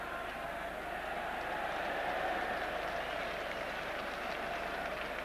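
Crowd at the England vs Wales Five Nations rugby match in London in 1984, a steady, distant wash of crowd noise and cheering that holds level throughout.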